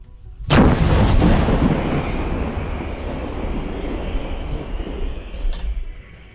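An artillery gun fires once, a sharp, loud blast followed by a long, rolling rumble that slowly fades.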